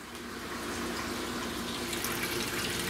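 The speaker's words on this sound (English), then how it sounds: "Filling it back up with water." Water pouring steadily into an aquarium as it is refilled, a continuous close splashing and rushing flow that holds an even level for the whole stretch with no talk.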